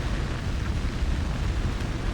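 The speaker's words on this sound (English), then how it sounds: "The building's on fire!" Fire roaring through a building in the video game Yakuza 7 Gaiden, a steady dense broadband rumble and crackle with no pauses, loud and close throughout.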